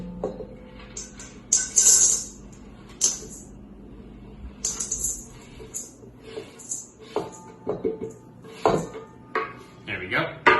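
Freshly chopped chocolate is tipped from a board into a separate bowl for baking, giving a close series of light clinks, taps and scrapes against the bowl, with short pauses between.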